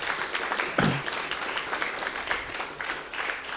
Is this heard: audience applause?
yes